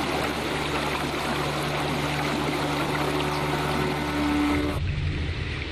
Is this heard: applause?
no